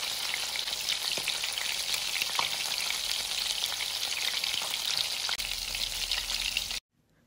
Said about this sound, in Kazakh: Міне көріп тұрғандарыңыздай жан-жаққа ыдырамай қуырылып жатыр